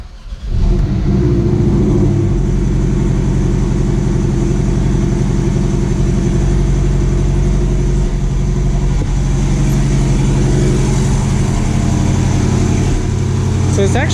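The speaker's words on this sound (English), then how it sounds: "let's go ahead and start her up." A 2021 Porsche Cayman T with a 2.0-litre turbo engine cranks and fires up in under a second, then settles into a loud, steady idle with a deep rumbling drone for the rest of the clip.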